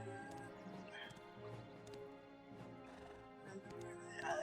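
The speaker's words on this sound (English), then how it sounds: "Let's get back on the horse." Horse in the Black Desert video game, hooves clip-clopping at a steady walking rhythm with an occasional faint whinny, mixed under game music and ambient sound.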